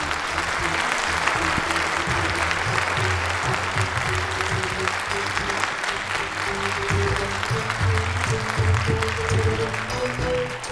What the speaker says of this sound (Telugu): దయచేసి చాలా గట్టిగా కొట్టాలి